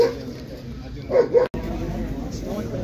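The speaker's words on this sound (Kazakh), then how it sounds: "Овчарка күшіктер. Еркек күшік." Shepherd puppies at a dog market yelp in a few short, high barks that cut through the steady murmur and talk of the crowd around them.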